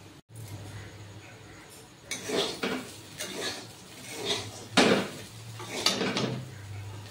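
Freshly washed dishes, pots and cutlery clatter and clink in a home kitchen, with irregular bursts of metal and glass knocks set against a low background hum.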